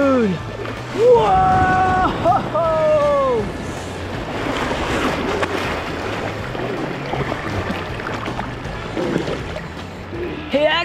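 Ocean surf washes and roars steadily in a cartoon about monster trucks surfing, with animated voices and whooping calls over the top.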